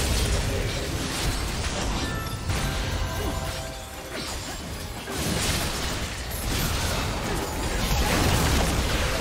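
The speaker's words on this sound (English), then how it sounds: "Red team's turret has been destroyed." Turret destruction in League of Legends, a dense game mix of crashing, smashing and bursting impacts with whooshes and mechanical clatter, loud and continuous with swells around the middle and end.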